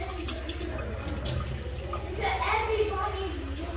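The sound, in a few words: tap water running while rinsing makeup brushes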